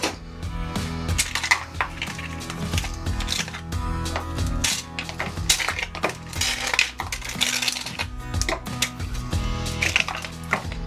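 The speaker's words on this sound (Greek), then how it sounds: "Ας ρίξουμε και πάγο." Ice cubes dropped into a bowl of water while preparing homemade butter give a series of hard clinks and clatters. Background music plays underneath.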